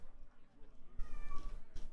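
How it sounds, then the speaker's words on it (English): A pet cat gives a plaintive, drawn-out meow close by, a single mournful call rising over quiet room noise with a second short cry at the end. "Why are you meowing all sad?"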